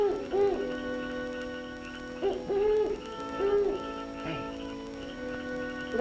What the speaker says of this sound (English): It's a bird. 15 years in show business, and I never heard a bird like that one. It's a mockingbird.